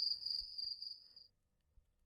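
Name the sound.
crickets chirping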